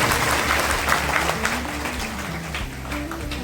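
At a Dussehra Shastra Puja celebration in Kamana village, Visnagar, a gathered crowd claps loudly and continuously, with a low musical drone running beneath the applause.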